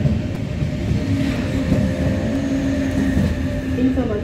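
Trains rumbling at Stuttgart main station, a continuous loud low roar of rolling railcars with faint tonal whines and hiss from the platforms, a voice murmuring faintly beneath.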